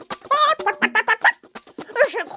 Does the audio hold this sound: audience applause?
no